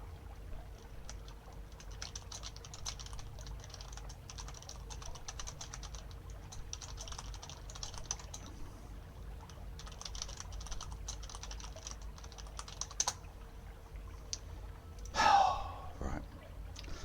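Someone types a Discord message on a computer keyboard. Rapid, light key clicks come in bursts over a quiet room hum, and a sharp breath or gasp is heard near the end.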